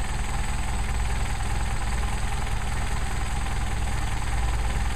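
Warm Mercedes 190SL engine with Solex carburetors idling steadily, a continuous close, even rumble with a faint ticking texture and no talk over it.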